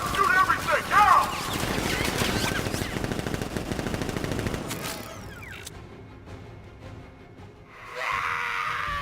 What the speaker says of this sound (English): Guards! Open fire! Shoot everything!